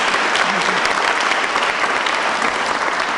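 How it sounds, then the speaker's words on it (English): Loud, dense audience applause at a governor's budget-signing event honouring state legislative leaders, sustained steadily throughout with no pauses. "Let's give them all a round of applause"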